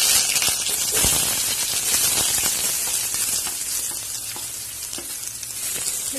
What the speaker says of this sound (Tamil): வெங்காயத்தை வதக்கிக்கிறேன்